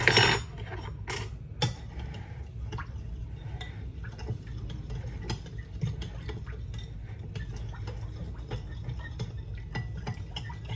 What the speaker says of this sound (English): you're gonna go ahead and mix that all up